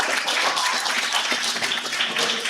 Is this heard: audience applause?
yes